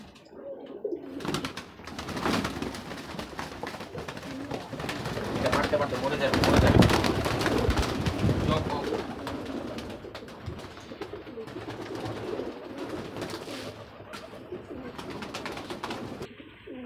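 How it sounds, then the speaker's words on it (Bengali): Indian Lotan pigeons coo repeatedly nearby amid wing flutters and rustling, while someone talks over them. "এটা হইলো একটা লুটন, জাস্ট এটা লুটন অনেকেই চিনেন আপনারা, লুটন কবুতর"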